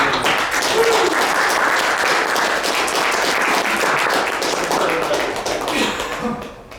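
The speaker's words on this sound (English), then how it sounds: "Give her a round of applause for that" Audience at a team-building talk gives a round of applause, a sustained, fairly loud patter of many hands that holds steady and then tapers off at the end, with faint voices in the room.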